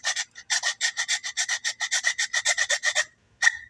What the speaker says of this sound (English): you take a file, and here's just a piece I broke off in the vise, but makes it real handy for sitting there and just truing up that edge